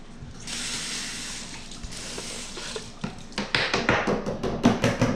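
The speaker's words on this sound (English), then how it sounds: "let me rinse this off real fast." Tap water running over a tomato being rinsed, a continuous rushing stream that gives way to choppy splashes and irregular spatters as it is handled under the flow.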